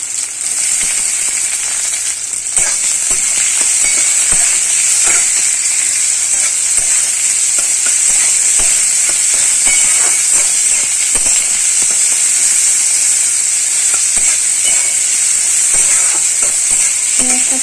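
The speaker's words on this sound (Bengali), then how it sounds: "এবার ওই কড়াতে পাঁচ ফোড়ন দিয়ে দেবো দিয়ে পেঁয়াজটা দিয়ে ভেজে নেবো হালকা করে" Onion frying with five-spice seed mix in a wok: a loud, steady sizzle and hiss running throughout, with frequent faint clicks and scrapes of stirring, close up and without speech.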